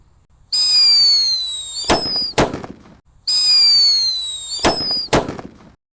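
Paper-wrapped firecrackers, Wrestling King Thunder and Happy Power 3, lit together: a loud rising whistle followed by sharp bangs and crackles, and then the same whistle-and-bang sequence repeats, with no voices.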